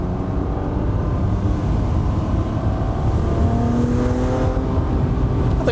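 Rocketeer restomod of a Mazda MX-5 running steadily nearby, its engine note holding a continuous drone with rising harmonics as it revs, loud and alone without any talk.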